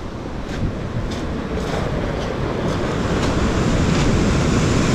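Big ocean waves crash and surge on a beach at Wuyanjiao in wind and rainy weather, a loud, continuous roar of surf with repeated broad swells and gusty wind noise, with no voices.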